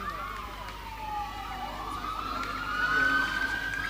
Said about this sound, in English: We now hear the sirens of the fire service trucks behind us, wheeling away